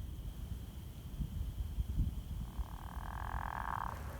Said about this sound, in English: So there is a perfect example of a pickerel frog.